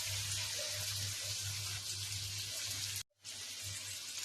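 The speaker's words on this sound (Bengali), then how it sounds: "অল্প জল দেব, অল্প।" Water pours into a pan of prawn curry as a steady rushing hiss, broken by one brief pause before the flow resumes; quiet overall, with no one speaking.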